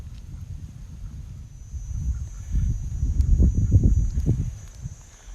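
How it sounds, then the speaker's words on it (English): Geese honking at a reservoir in the Krabi countryside, a cluster of calls rising in the middle and fading out, heard at a modest distance over outdoor background noise. "There's some geese."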